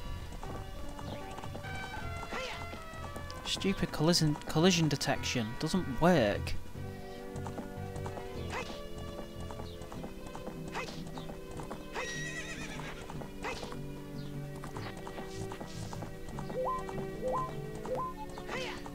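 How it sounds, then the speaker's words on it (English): Horse hooves clip-clopping at a gallop with whinnying neighs in Zelda: Ocarina of Time, mixed with game music and sound effects while someone talks over it; the hoofbeats and neighs peak loudly in the early seconds. "No, don't stop, stupid horse."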